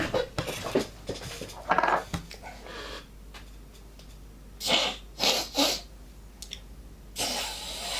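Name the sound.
sneeze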